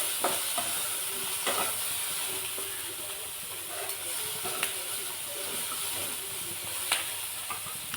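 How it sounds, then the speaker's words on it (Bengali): Maggi noodles being lightly fried in a pan give a steady close hiss and sizzle, broken by occasional spoon scrapes and stirring knocks, no talking. "আমি ম্যাগিটা এখানে ঢেলে নিয়েছি, একটু হালকা ভেজে নেব"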